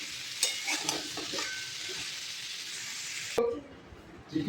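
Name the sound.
pumpkin with tomato and green chili frying in pan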